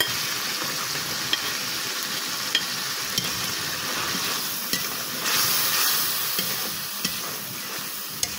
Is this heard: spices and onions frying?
yes